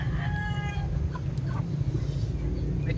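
Geese on a farm honk and cluck in a few short calls over a steady low rumble of wind or outdoor noise, with no talk.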